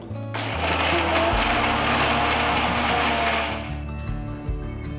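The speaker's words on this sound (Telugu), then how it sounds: "నీళ్ళు ఏం పోయకుండా ఫస్ట్ వీటిని గ్రైండ్ చేసుకోవాలి" A mixer grinder runs loud and steady, grinding dry roasted chillies without any water, its motor whirring continuously with a rattling, churning texture that eases off near the end.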